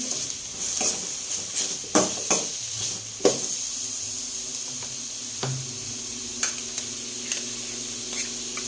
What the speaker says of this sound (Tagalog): Nilagyan na rin po natin yung kamatis natin.